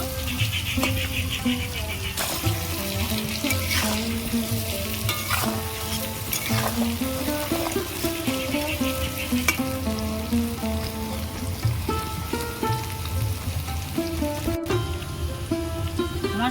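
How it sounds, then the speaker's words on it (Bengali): Potatoes frying in a pan over low heat, a steady, continuous sizzle with occasional stirring, heard beneath background music throughout. "অল্প আঁচে আমি আলুগুলো ভেজে নেব"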